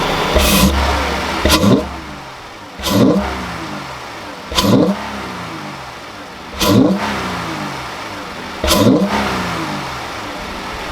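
Dodge Durango V6 fitted with a K&N intake revs in five sharp bursts spaced about two seconds apart, each a loud rising roar that falls back to idle, close and with no talk.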